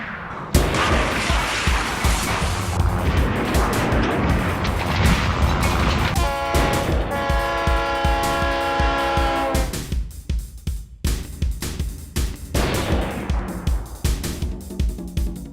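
A train rumbles loudly past with a long blaring horn, then crashes into a truck at a road crossing with heavy clattering and banging impacts, then rumbling noise continuing.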